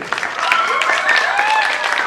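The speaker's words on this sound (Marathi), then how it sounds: "जोरदार टाळ्या वाजवून आपण या खेळाडूंचं कौतुक करायचंय." An audience applauds players at a Mallakhamb competition at a Pune festival, a dense, loud burst of clapping sustained throughout with a few whoops on top.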